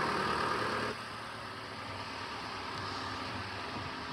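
A Mitsubishi Outlander's 4B11 engine, with scored cylinders, idles cold with a steady mechanical rumble and fine ticking knock; a louder burst at the start drops to an even, continuous idle.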